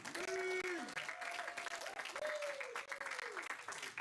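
An audience applauds at a live spoken-word and music event, steady dense clapping with a voice talking and calling out over it throughout.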